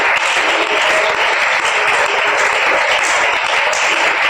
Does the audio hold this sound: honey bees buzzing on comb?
no